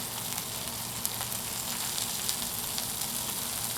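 Chicken wings sizzle in oil on a Blackstone griddle, a steady close crackling hiss with scattered small pops, alone and without talk.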